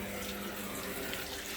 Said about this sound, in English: So I'm just gonna put some water in this bowl.